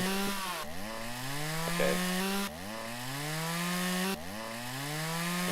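A chainsaw in the video game Lumberjack's Dynasty cuts wood in three long whining passes, each starting with a dip and climbing in pitch, loud and close, with one brief spoken word.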